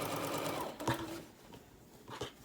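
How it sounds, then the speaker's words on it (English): A sewing machine stitches a side seam on a tote bag, a steady mechanical whirring run that slows and stops, followed by a few soft handling clicks nearby. "I'm just going to put this underneath my sewing machine. I'm going to sew up one complete side."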